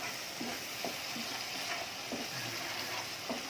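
Chili sizzles and fries steadily in a pan while a utensil scrapes and stirs it at a loose rhythm. The sizzling is continuous and close, and no one speaks.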